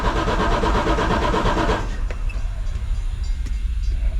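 A cheap rock drill's small engine cranks and tries to start, a loud, dense mechanical chugging that runs strongly for about two seconds, then drops to a lower rumbling churn.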